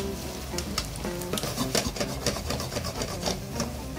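A scallop pasta sauce seasoned with shiro dashi bubbles and reduces in a pan, a busy close sizzle broken by rapid spoon taps and stirring scrapes, with no one speaking.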